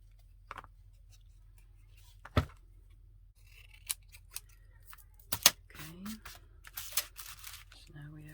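Scissors snip paper for a junk journal craft project, a few sharp isolated cuts spaced apart over quiet background with light rustling of paper, close to the microphone.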